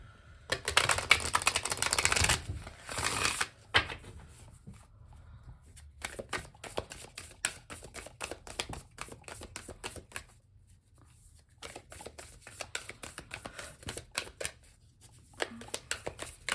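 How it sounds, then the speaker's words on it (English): Cards are shuffled repeatedly at close range, with a loud riffle at the start followed by rapid flicking and tapping bursts with short pauses between. "I'm gonna do one more shuffle and we'll just cut."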